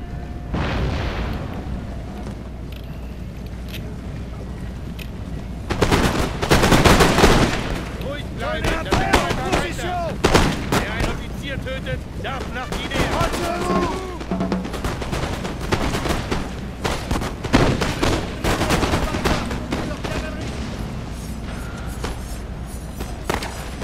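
Gunfire from a Napoleon: Total War battle, dense musket volleys and sharp shots crackling in bursts with booming impacts, loudest in a heavy cluster early on, continuing in scattered rattling fire to the end.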